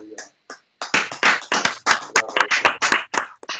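A church congregation applauding, a burst of sharp, fairly close handclaps that starts with a few scattered claps and builds into steady rhythmic clapping, with voices mixed in.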